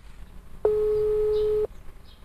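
A phone call tone plays while a friend is being dialed: one steady, clean electronic beep lasting about a second, alone in quiet.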